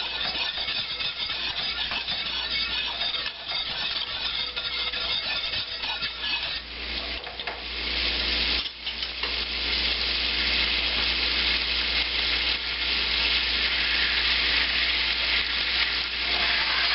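Steady loud sizzling of a pan sauce with flour and alcohol cooking down for veal saltimbocca, a continuous close frying hiss with occasional stirring scrapes and no talk.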